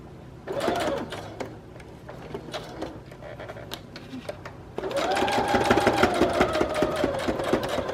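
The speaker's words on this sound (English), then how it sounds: "I'm just kind of messily stitching around the things." A sewing machine stitches around journal ephemera in short bursts, first a brief run and scattered starts, then a longer continuous whirring stretch, close and clear with no talk.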